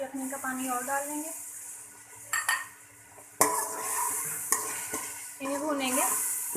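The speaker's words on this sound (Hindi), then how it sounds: "इन्हें भूनेंगे।" Spices and masala for chicken pulao sizzle in a pan while a spoon scrapes and stirs, with sharp metallic knocks against the pan, and a voice speaks over the cooking.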